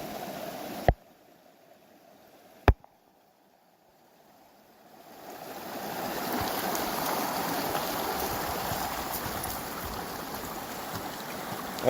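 Small seasonal creek running in the rain, a soft, steady rush of flowing water that fades in after a couple of sharp clicks and quiet gaps, then continues alone.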